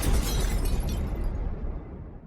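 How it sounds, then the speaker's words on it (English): A loud explosion sound effect, a single dense blast with a broad rumbling body that fades out over about two seconds, alone without talk. "Here's an explosion, so that we can just get it over with"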